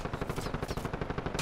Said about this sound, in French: Ça tire où?